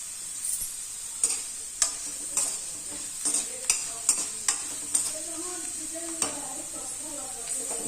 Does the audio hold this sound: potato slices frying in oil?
yes